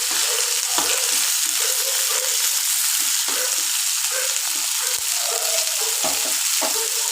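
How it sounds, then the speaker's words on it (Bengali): Whole cardamom pods and cinnamon sizzling in hot oil for a fish curry, a steady loud crackling fry with occasional soft stirring bumps, close up and with no voices. "আমি সাইড করে ফোড়নটা দিয়ে দিলাম"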